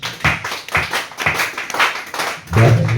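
Congregation clapping during a church worship testimony session, several sharp bursts of hand claps in loose rhythm, fairly close, with no talking over them.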